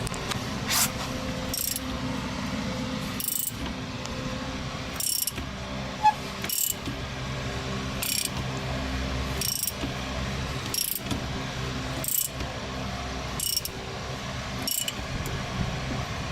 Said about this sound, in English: And as I tighten the nut, it will pull the bolt in